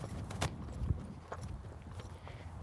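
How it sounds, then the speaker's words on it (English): Mustang horses walk in an arena, their hooves clip-clopping in a few soft, uneven thuds at close range, with no voices over them. "This will be the second time that these 2 horses are riding together in the arena."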